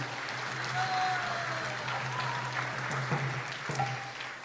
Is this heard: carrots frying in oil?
no